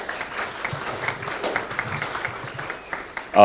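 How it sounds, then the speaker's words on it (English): A press-conference audience applauds Pastor Nelson Brown and his colleague: moderate, fairly distant clapping sustained throughout, with a louder burst right at the end. "They deserve a round of applause."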